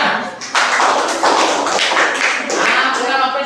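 A classroom group gives a round of clapping for a presenting team, close and loud, coming in a few uneven surges with brief dips between them.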